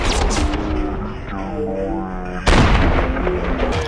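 Gunfire in Call of Duty MWII, loud booming shots in rapid bursts at the start and again after a pause, heavy and close, with faint engine-like hum between.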